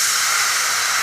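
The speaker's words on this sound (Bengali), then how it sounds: "ফ্রাইং প্যানটা আমি একটু ভালো করে মুছে নিয়েছি। এবার এর মধ্যে জল দিয়ে দেব।" Water poured into a hot wiped frying pan while making aloo kulcha sizzles in a loud, steady, close hiss that lasts the whole moment.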